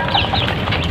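A mother hen, a Basilan native chicken with five chicks, gives soft, close clucks in a quick run over a muffled farmyard background.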